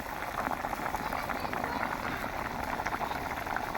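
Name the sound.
fish and potato curry boiling in a pot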